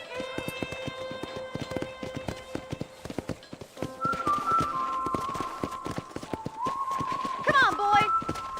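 Horse hooves clip-clop steadily in Red Dead Redemption, a western video game, with occasional snorts, set at a ranch corral while background music plays; the footfalls stay near and rhythmic throughout.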